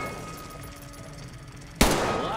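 A single sharp rifle shot from an automatic weapon in Metro Exodus cracks out loudly after a steady low background hum, followed by a brief ringing tail.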